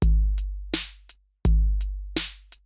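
A GarageBand drum loop for a rap beat runs a two-bar boom-chak pattern of deep booming kicks and sharp snares with a binary hi-hat division, close and clean with no one talking.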